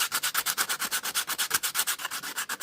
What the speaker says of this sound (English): we're just going to tickle these bases with a sanding pad